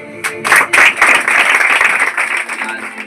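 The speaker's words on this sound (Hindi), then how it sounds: "मुन्ना के लिए तालियां" Audience applause at a motivational seminar and prize ceremony, welcoming a speaker to the stage: dense, steady clapping from a crowd that starts in a few sharp bursts, then holds loud and even for about three seconds.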